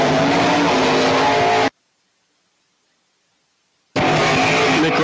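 An 1980s Chevrolet Camaro makes a drag racing run at Cecil County Dragway with a loud roaring engine. The engine cuts off abruptly, stays silent for about two seconds, then roars back at full strength.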